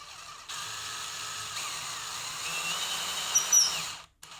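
A power drill works its way free of a Les Paul guitar body in a luthier's workshop, giving a faint, steady motor whine with a brief high squeak near the end before stopping.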